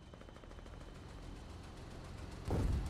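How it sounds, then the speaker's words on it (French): Gunfire from an allied weapon in the war video game Foxhole, a steady rattling stream of shots at moderate distance, ending in a louder, heavier blast near the end. "C'est nous qui tirons."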